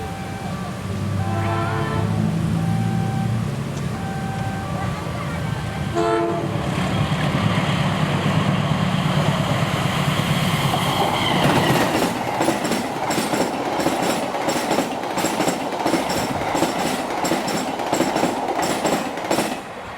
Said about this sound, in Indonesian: 16:04 sudah lewat kereta api Mataram 89 dari stasiun Solo Balapan tujuan stasiun Pasenen.